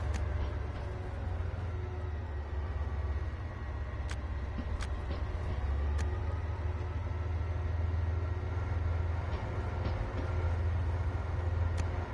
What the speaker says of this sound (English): a couple of early morning trains out of Wagon go by